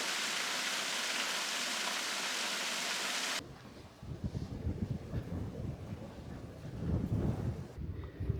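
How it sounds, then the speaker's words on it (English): A historical waterfall in a long-submerged canyon of former Lake Powell rushes with a steady hiss at first, then gives way to rougher, gusting wind noise. "That's a historical waterfall that is, you know, visible for the first time in years."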